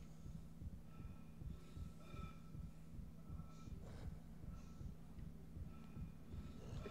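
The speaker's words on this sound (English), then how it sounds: "Dude, listen to that heartbeat." In the Dead Space video game, Isaac's heartbeat thumps in a steady, regular rhythm, low and throbbing under a faint hum, continuing alone throughout.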